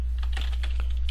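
A short burst of quick keystrokes on a computer keyboard, close and clear, with a steady low hum underneath.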